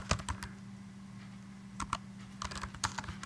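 Typing on a computer keyboard to enter text into a Primary Wall sticky note: a few quick clicks at first, a brief pause, then a second run of irregular keystrokes over a low steady hum.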